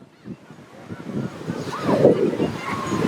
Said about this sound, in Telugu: బీచ్లోని కూడా ఉన్నాయి అలలు అవి కూడా బాగా వస్తున్నాయి